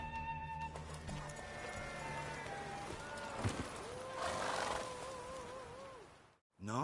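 A horse in The Witcher 3 video game gallops and whinnies during a race, its hoofbeats thudding under music and game sounds, with a long neigh near the end before a brief drop to silence.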